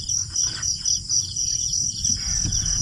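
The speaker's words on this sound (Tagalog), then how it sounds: "huni ng kuliglig" Crickets chirp in a steady, high-pitched pulsing trill near a rural hut, with faint bird calls and low ambient rustle underneath and no voices.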